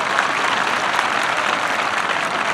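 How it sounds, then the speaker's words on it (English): A graduation audience at Hoke County High School in 2016 breaks into loud, steady applause that fills the hall without pause. "Please give our district leadership team a round of applause."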